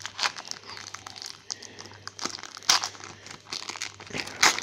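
Foil wrapper of a 1990 NHL Pro Set hockey trading card pack being torn open and crumpled, with crinkling bursts and sharp rips close up, no talking.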